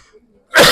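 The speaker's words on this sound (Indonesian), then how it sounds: "Saya jadi batuk, suruh pulang kali." A single sharp, loud cough bursts out after a quiet pause, from someone at a women's Islamic study gathering in a small prayer hall.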